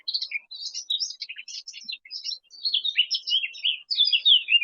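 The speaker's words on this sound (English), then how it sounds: "See, this bird is singing just for you guys." A songbird singing in a forest near the Alps, a rapid, high-pitched run of varied chirps and trills delivered in several bursts, clear and close against otherwise quiet surroundings.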